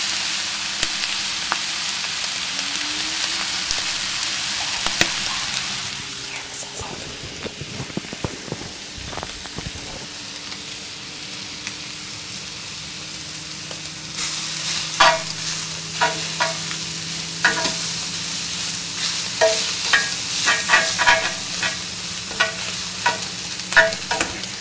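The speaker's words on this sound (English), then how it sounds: "I don't know if you guys can hear the sizzle, but it's good." Carnitas pork sizzles and fries in a pan with a constant crackling hiss, broken by scraping stirs and bursts of sharp popping that grow busier toward the end.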